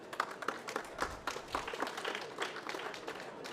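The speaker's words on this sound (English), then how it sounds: "Please, a round of applause for Sonia." Audience applause at a COP29 panel in the SDG Pavilion, steady scattered clapping from a modest crowd in a hall, moderately distant and continuous for a few seconds.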